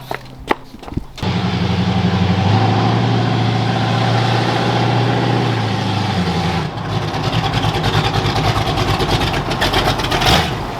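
A truck engine running as it pulls out: after a couple of sharp knocks, a loud, close, low idle rumble holds steady, then shifts to a rougher, uneven note as the vehicle gets moving.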